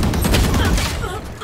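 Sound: gunshots fired in a video game

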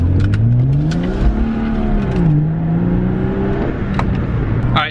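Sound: BMW F30 335i with muffler delete exhaust while driving

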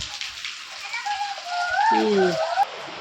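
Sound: heavy rain pouring onto a porch

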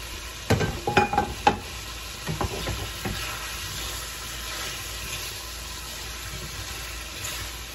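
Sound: pre-fried chicken pieces being sautéed in a pan

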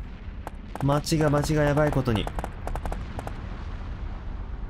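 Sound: explosions in the video game City Shrouded in Shadow

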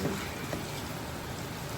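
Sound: rain falling

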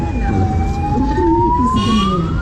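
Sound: ambulance siren

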